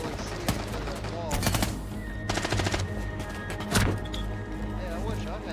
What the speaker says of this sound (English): He gets shot in the head.